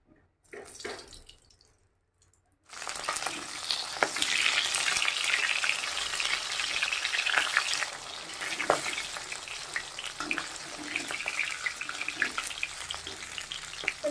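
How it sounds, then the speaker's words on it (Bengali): A fish head fries in hot mustard oil in a pan, a loud dense sizzle with crackling spatter that starts abruptly after a quiet moment and holds steady close by, with no talking. "মাছের মাথাটা আমি এখন ভাইজে নেব আমি সরষের তেলটা দিয়ে দিলাম"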